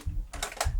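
A Hitachi D-E7 cassette deck being powered up gives a couple of short, sharp mechanical clicks close by, separated by a brief gap.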